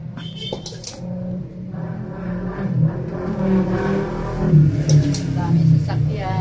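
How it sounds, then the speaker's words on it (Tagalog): Vehicles pass along a busy road near an outdoor potting spot, with a continuous rumble and engine whir as they go by, mixed with birds cooing and someone talking. "Dami sasakyan."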